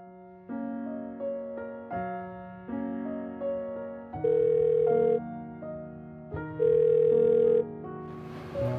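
Telephone call tones on a line: steady sustained pitched tones in repeating segments with brief gaps, fairly loud and clear, with no talking over them.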